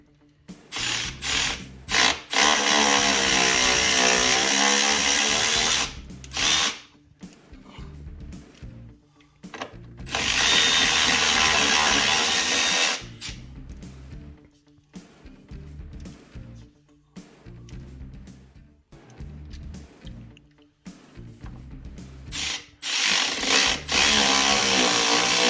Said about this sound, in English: they want you to run this bolt through and get the threads cut